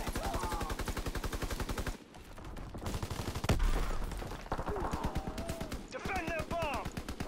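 A Bren light machine gun fires in a video game on the Operation Breakout map, giving a long, steady run of rapid, evenly spaced shots that stays loud and close, with voices shouting over it.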